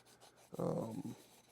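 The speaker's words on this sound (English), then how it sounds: "I have my trusty little sanding cue or brick here, so I like to buff it up" A short, dry rubbing rasp of a sanding block scrubbing across a painted surface, one steady pass lasting about half a second, close by.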